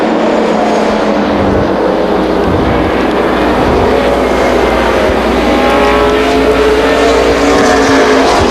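NASCAR Busch North Series stock cars race at Beech Ridge Motor Speedway, a loud continuous engine roar with shifting pitch as several cars run the oval, with no talk over it.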